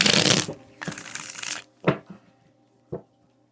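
Cards riffle-shuffled in a long burst, then a second shorter shuffle, followed by two soft taps as the deck is squared; close and fairly quiet.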